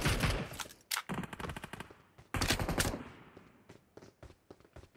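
Gunfire in the PUBG Mobile battle royale game: loud, close automatic bursts of rapid shots, broken by short pauses, followed by scattered single cracks and quieter distant pops toward the end.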